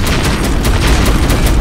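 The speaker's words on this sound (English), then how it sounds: "Yeah, epic explosion!" A loud, sustained rumbling blast with dense crackling bursts throughout, a big explosion in the game Metro 2033 filling the whole moment without any voices.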